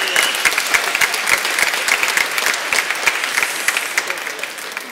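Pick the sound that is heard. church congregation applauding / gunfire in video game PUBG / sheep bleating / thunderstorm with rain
church congregation applauding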